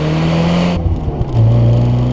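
A Fiat Tipo 2.0 16v with 146 horsepower revs hard from inside the car, its engine note dropping briefly at a shift before climbing again, loud and close.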